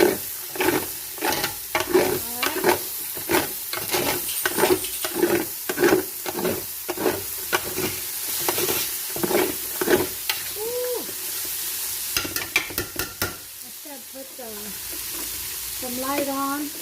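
Smoked turkey tails sear in a pot with loud, close sizzling, and a utensil stirs them in regular repeating scrapes and knocks for most of the clip, followed by quieter sizzling.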